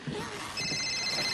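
A telephone rings nearby with a bright, steady bell-like trill over a murky room background.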